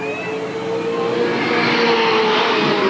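Race cars roaring around the oval at Eugene Speedway in 1987, engines loud and sustained with rising pitch as they pass close by, a continuous high-revving drone throughout.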